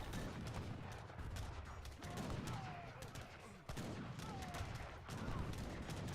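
Battle sounds in a strategy video game, including a mortar shot amid repeated bursts of gunfire and impacts, fairly faint, with a dense rattling texture and short sharp hits spread across the stretch.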